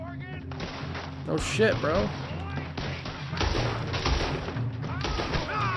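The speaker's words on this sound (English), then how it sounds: "They're all shooting me." Gunfire in Red Dead Redemption 2 mixed with game noise, several thumping shots scattered through the clip under someone talking.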